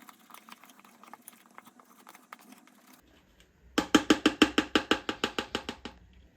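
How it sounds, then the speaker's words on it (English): A plastic spoon stirs sourdough bread ingredients in a container. The sound starts as faint scattered scraping and then becomes a run of about fourteen loud, evenly spaced rhythmic knocks and slaps that slowly fade. "Now I try to mix all the ingredients with help of plastic spoon."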